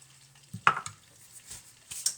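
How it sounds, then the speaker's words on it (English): Garlic sautéing in a pan gives a brief, quiet sizzle, with a few soft stirring scrapes and taps from a utensil against the pan, no talking. "Alright, we will saute that."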